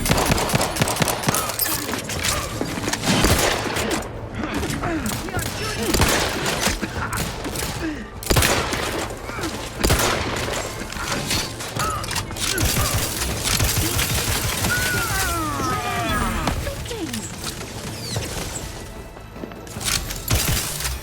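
Rapid, dense gunfire in The Outer Worlds 2, with bursts of automatic shots and heavy thuds packed closely together in a loud, near firefight, along with mechanical clatter.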